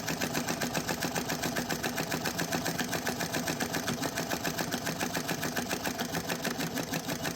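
A small flywheel engine runs steadily at around 400 rpm, giving a continuous, rhythmic chuffing pulse with evenly spaced beats, close and moderately loud with no voices.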